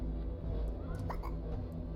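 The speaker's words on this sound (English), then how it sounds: "Jumping sounds like we have the hiccups" A small creature's jump in The Eternal Cylinder gives a brief hiccup-like squeak, faint over a low rumbling game ambience.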